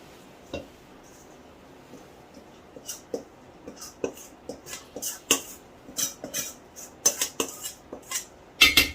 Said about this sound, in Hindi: इसी तरीके से 15 से 20 मिनट तक, जब तक सूजी अच्छी तरह फूल ना जाए, चम्मच आपने चलाते रहना है।